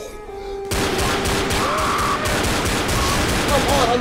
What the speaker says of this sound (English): I'm shooting right at this damn thing